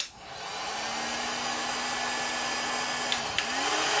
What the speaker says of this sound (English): now we go to heat shrinking